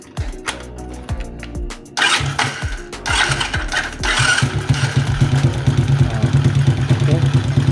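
A motorcycle with a flooding carburetor and a removed air filter cranks in rapid chugs, catches loudly, then settles into a rough, close idle that pulses steadily.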